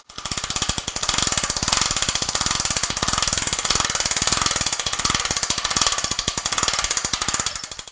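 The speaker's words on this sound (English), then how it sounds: "So I'm gonna have to loosen that, turn it 90 degrees, and then begin to crank up." A Global Truss ST-180 heavy duty crank stand is cranked up, giving a rapid, even ratcheting clatter of pawl clicks that runs loud and close for the whole stretch without pause.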